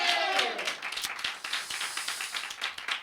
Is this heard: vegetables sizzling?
no